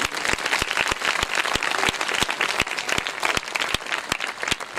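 An audience at an outdoor religious festival gathering claps for children walking toward the stage, a dense round of applause with sharp individual claps popping out, sustained and close.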